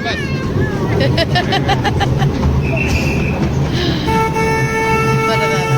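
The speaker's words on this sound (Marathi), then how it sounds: "अरे ट्रेन सुटली" A small park train rumbles away amid a noisy, chattering crowd, and a short tonal toot sounds near the end.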